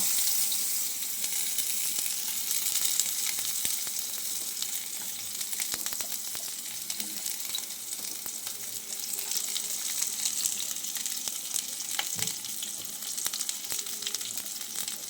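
A gourd leaf chars in a hot pan with a steady, close, crackling sizzle that runs unbroken, broken only by an occasional stir or tap.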